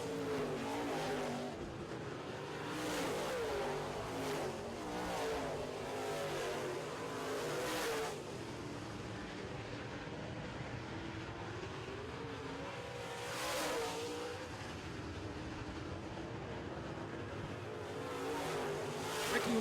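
Late model race cars roar around a track, engines swelling loudly as they sweep past in repeated waves and fading between passes, with a constant engine drone underneath.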